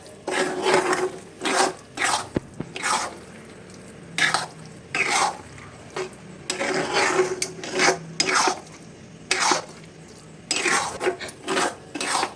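A spoon scrapes and rasps around a pan on a gas stove while tarka is stirred with spice, coming as repeated short metallic strokes in uneven bursts with brief pauses, close and moderately loud, with no talking.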